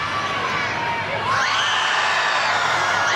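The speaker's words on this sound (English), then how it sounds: "Fans certainly love the attempt there" A soccer stadium crowd at a USA versus Sweden women's international match roars and cheers as a shot goes in, with the noise swelling suddenly midway and holding loud and dense.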